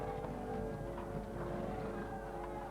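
Horses of French knights in chainmail charging in battle through mud, their hooves a continuous rumbling clatter under a dense, steady roar with no clear individual beats.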